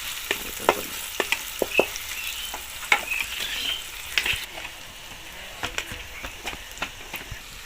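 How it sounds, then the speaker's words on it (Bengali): Chopped vegetables fry in a pan, a soft continuous sizzle broken by frequent stirring scrapes and clicks, close and moderately quiet, with no talking. "কুচি ভেজে নেব খুব ভালো করে এটা"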